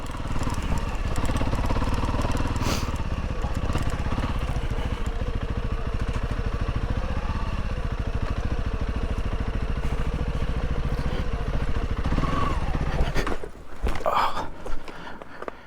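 Honda CRF 300L motorcycle ridden off-road, its engine chugging loudly and steadily up close for several seconds, then abruptly dying as it stalls, followed by brief clatter.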